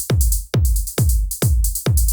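A DS hi-hat pattern from the MDD Snake device with some gates switched off: steady bright high hiss shimmering over five regularly spaced punchy low thumps, loud and close, without any voices.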